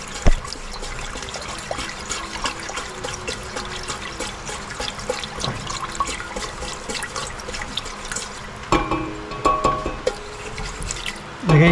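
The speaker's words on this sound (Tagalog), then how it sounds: "Maglalagay tayo ng 1/3 cup ng asukal. Halo natin to. I-dissolve natin." Sugar being stirred into two cups of water for a dragon fruit jelly dessert, a continuous wet swirling with small drips and clinks, ending in a few louder knocks.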